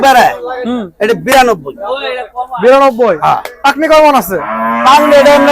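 A black cow moos repeatedly, loud and close, several long bellowing calls in a row with brief pauses between them, at the Gabtoli cattle market.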